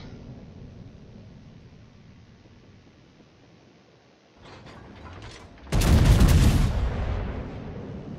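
In a naval video game, a warship's guns fire on an enemy battleship: a low ambient rumble, a few muffled thumps, then one loud booming salvo that rolls and slowly decays.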